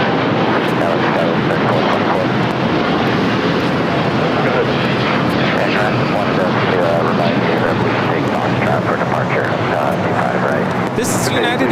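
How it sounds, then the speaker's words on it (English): United Airlines Boeing 787-9 Dreamliner bound for London Heathrow roars down the runway at LAX on takeoff, a loud, steady broadband jet rumble filling the whole span with voices talking over it. "This is United Airlines 231 taking off to London Heathrow on the 787-9 Dreamliner"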